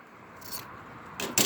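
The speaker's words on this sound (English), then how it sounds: "you take your scissors and you make a snip" Scissors snip through a folded fabric strip for a handmade rug, a few short, close, crisp cuts with a faint scrape between them.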